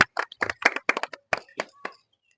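A small group claps for a player at home during a family bangle-arranging challenge, with quick, irregular, close hand claps in a short burst that trails off into silence.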